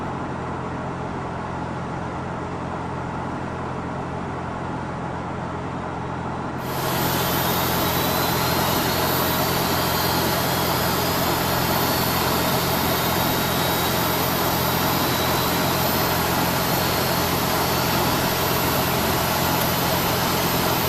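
Airliner engine 2 starting in Flight Simulator X: a steady low cabin hum abruptly swells into a louder, broader roar with a rising whine as the engine spools up.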